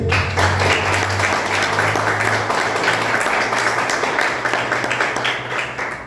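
A church congregation claps together at a Portuguese-language worship service, a dense, steady wash of applause that holds strong for about six seconds before easing slightly, with a low sustained hum beneath it.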